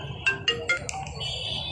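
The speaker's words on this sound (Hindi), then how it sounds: "वो रुचि को फोन मिलाने ही वाला था कि उसका कॉल आ गया" A mobile phone ringtone plays for an incoming call, a quick melodic run of bright electronic notes followed by a held tone, heard alone over faint background noise.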